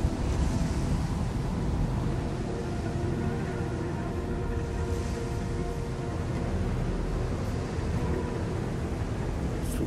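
Steady, loud wind rushes through the desert world of the video game Journey, a continuous broadband roar with gusty swells and no speech over it.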